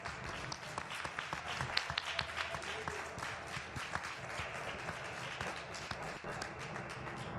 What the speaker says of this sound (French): je sais pas si tu vas les entendre t'applaudir